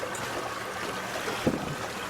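A 2013 SeaFox 226 Pro Series center console boat cruises at 8 knots through a no-wake zone, with a steady wash of water and low engine rumble and a brief splash near the end.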